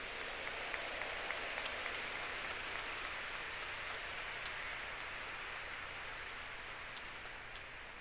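A church congregation applauds at a Catholic service, a steady, dense wash of clapping that holds at an even level throughout without pause.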